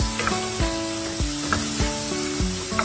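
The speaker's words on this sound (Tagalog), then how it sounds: "ipapan-fry natin ang ating mga potatoes para hindi sila fall apart mamaya. At isusunod na rin natin ang ating carrots." Cubed potatoes and carrots fry in a pan for giniling menudo, giving a steady close sizzle with repeated stirring scrapes and faint rhythmic tones running underneath.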